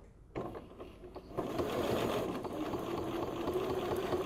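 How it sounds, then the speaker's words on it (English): A sewing machine quilting straight crosshatch lines along a ruler, starting with a few slow clicks and then settling into a steady, close, continuous mechanical whir. "I'm just stitching along there."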